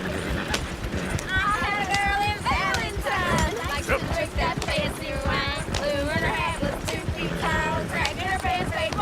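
Horses clip-clop along in Red Dead Redemption 2 with steady, continuous hoofbeats and an occasional whinny, heard under ongoing voices.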